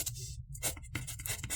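A pen or pencil scratches across paper as the word yellow is written, a few short close strokes with brief pauses between them, quiet and unaccompanied by speech.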